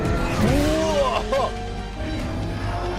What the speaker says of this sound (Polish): Hyundai Ioniq 5N. Najbardziej zaskakujący samochód elektryczny, jakim ostatnio jeździłem.